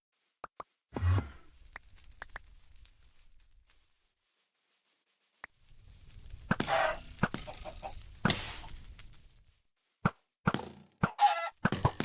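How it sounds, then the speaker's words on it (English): A flock of around eighty chickens spawned by command in Minecraft, clucking in scattered bursts of game sound effects, busy and overlapping in places with quiet gaps between. "it literally must be like 80 chickens"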